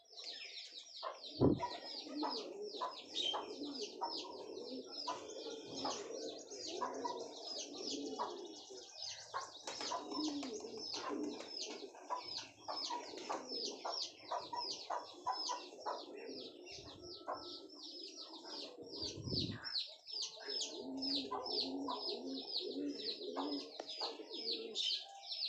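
A loft full of pigeons keeps up a continuous chorus of low cooing mixed with sharper chirps, fairly soft overall, with a few louder bumps or wing flaps along the way.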